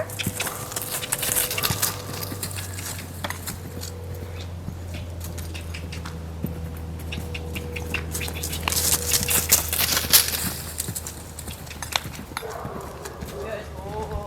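A horse cantering gives rhythmic clip-clop hoofbeats, moderately close, under a steady low hum, with a person talking intermittently over the footfalls.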